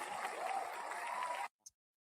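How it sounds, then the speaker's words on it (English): A short burst of applause, a brisk wash of clapping for about a second and a half that stops abruptly, followed by one faint click in the silence. "I'm going to give you another round of applause"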